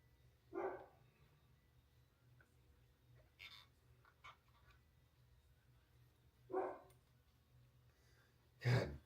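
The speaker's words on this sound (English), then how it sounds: "I don't want to hear this fucking dog bark all night." A dog barks in short, separate outbursts, a couple near and sharp and others softer, spread across a quiet stretch with a steady low hum underneath.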